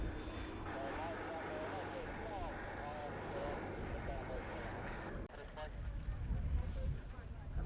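A Westland Lysander flies at an air display, its propeller engine a steady distant drone with a commentator talking over it throughout.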